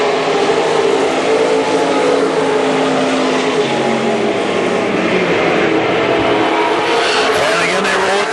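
WISSOTA super stock race cars roar around the Viking Speedway track, a loud continuous blend of engines rising and falling as they pass, with an announcer talking over the race.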